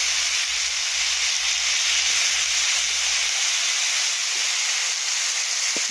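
Panch phoron five-spice sizzles in a hot wok with a steady, bright hiss close by. A low hum underneath fades out partway through.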